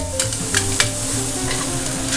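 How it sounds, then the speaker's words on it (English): Onions sautéing in butter in a pan over medium heat, giving a close, steady sizzle with a few quick scraping stirs and light clicks. "I'm going to throw my onions right onto that butter and give those a little saute going on"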